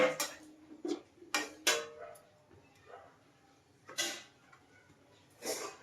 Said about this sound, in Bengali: এই জল দিয়ে দিলাম এবার ঢেকে দেব